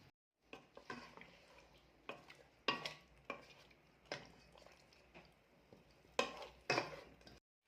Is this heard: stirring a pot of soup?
yes